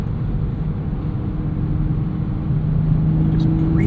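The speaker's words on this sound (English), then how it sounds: "You just breathe on that accelerator in 6th gear. Immediately you're gaining 5 to 10 mph." A 2024 Toyota Supra 6-speed 45th Anniversary Edition engine hums steadily as it accelerates in sixth gear, a low continuous drone that swells slightly toward the end.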